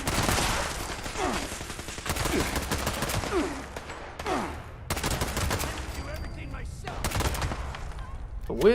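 Bursts of rapid weapon fire in Fallout 76, dense volleys starting and stopping in several runs across the stretch, loud and close, with a voice talking over parts of it.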